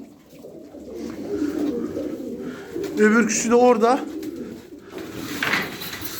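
Pigeons in a loft, tumbler birds kept for flying, giving soft repeated throaty coos with a louder burst of cooing in the middle, while someone talks nearby over the birds.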